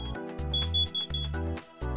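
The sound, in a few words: motorhome smoke, CO or propane detector alarm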